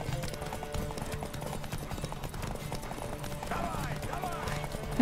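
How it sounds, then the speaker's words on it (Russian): Horse hooves clip-clop at a gallop in The Witcher 3, a steady rhythmic pattern of hoofbeats under game music, with a whinny near the end. "Быстрее, лошадь!"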